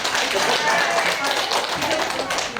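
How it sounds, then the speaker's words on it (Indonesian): Audience applause at a workshop, a dense, steady round of clapping from a roomful of people that holds at an even loudness throughout, with talk mixed in underneath. "Beri aplaus untuk Kecamatan Benteng"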